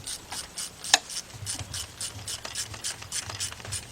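A ratchet clicks in short bursts while tightening bolts during a timing chain replacement on a GM V6 engine, with one sharp metallic clack amid close, faint mechanical scraping.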